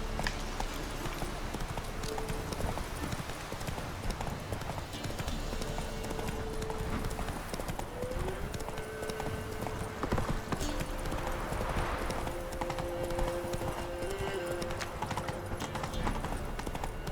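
A horse's hooves clip-clop in a steady, rapid galloping rhythm across the whole stretch in The Witcher 3, with low wind and ambient game tones underneath.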